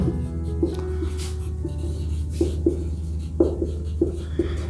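Pen writing maths working by hand on paper during an integration by substitution lesson: short scratchy strokes in uneven bursts, close and moderately loud over a steady low background hum, with no talking.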